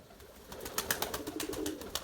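Young white Erzurum pigeons coo close by, low throaty calls that repeat in quick pulses alongside soft fluttering taps, with no talking.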